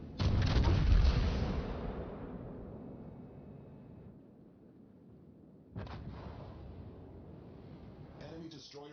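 Heavy naval guns boom in a battleship game, World of Warships, featuring the Vermont firing on an enemy warship: a loud deep blast that rumbles and fades, then a second salvo cracks out, trailing away.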